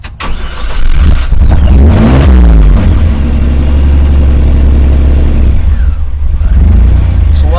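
A car engine with an idle that will not come up is revved by pressing the gas pedal, rising loudly through a couple of sweeping revs, then settling into a rough, loud running drone up close.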